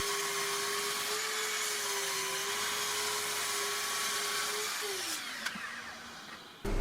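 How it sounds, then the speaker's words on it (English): A chop saw trims wooden boards for cutting boards to length, a steady high motor whine that holds, then drops as the blade spins down, followed by a sharp clack at the end. "So I'm going to trim them to the length I need on the chop saw."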